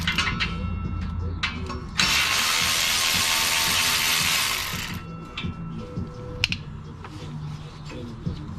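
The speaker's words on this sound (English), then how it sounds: "take off the bolts for the headers and the O2 sensor" Ratchet clicks while exhaust header bolts are loosened during an LS turbo kit install, close-up mechanical ratcheting with a loud continuous burst of hissing noise in the middle and scattered tool clinks around it.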